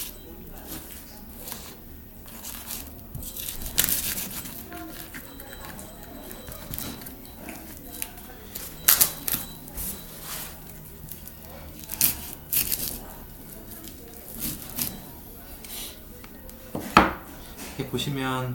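A knife works through the cheek meat of a tuna head with repeated wet cutting and scraping, clicks and knocks of the blade against the board and bone, while a person talks throughout.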